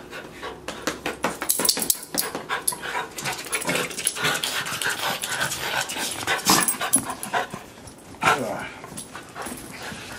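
A border terrier pants and whimpers close by amid scuffling and light clinking, while people speak intermittently over it.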